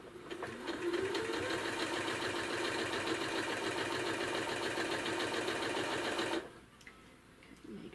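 Sewing machine stitching quilt seams on a Cricut Maker quilt project, a steady rapid mechanical chatter running for several seconds before it stops abruptly, leaving faint room noise.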